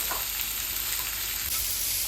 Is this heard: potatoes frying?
yes